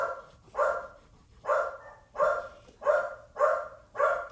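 A dog barks in a studio during a painting session, seven evenly spaced loud barks about half a second apart, fairly close, with no talk over them.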